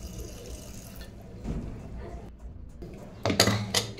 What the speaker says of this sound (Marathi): 1 ग्लास पाणी ओतून हा कुकर मी गॅसवरती ठेवणार आहे